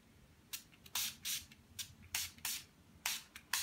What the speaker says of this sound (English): to set my face, I'm going to use the Urban Decay All Nighter Makeup Setting Spray.